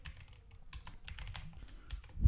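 Quick, light keystrokes clatter on a computer keyboard, a short irregular burst of close taps while a web address is typed.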